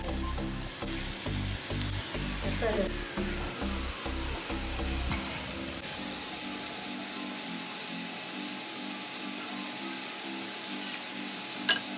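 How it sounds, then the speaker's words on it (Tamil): Homemade kurkure dough rolls frying in hot oil on a tawa: a steady, close sizzle with rhythmic knocking and stirring at first, then an even hiss alone. "ஆயில் நல்லா ஹீட் ஆனதுக்கப்புறம் நம்ம ரோல் பண்ணி வச்ச எல்லாத்தையும் இதில் சேர்த்துடலாம்."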